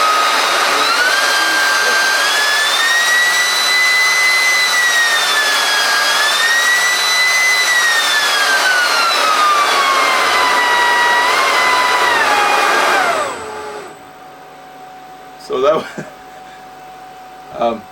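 A table saw's upgraded motor spins freely with no load at about 10,000 RPM, giving a loud, steady high-pitched whine that drifts slightly in pitch for about thirteen seconds, then cuts off abruptly, leaving a faint hum and a few brief knocks.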